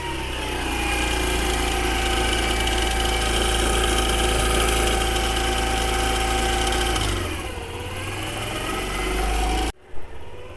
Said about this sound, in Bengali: এই যে দেখেন বাইকটা স্টার্ট হয়ে গেছে